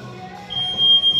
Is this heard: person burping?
no